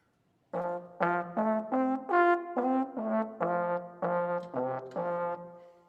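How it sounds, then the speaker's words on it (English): A trombone plays a short phrase of about a dozen separate notes with a slightly buzzy, rough, spitty beginner-style tone, solo and fairly close. "beginning trombone, brass players tend to sound like they're spitting through their instrument"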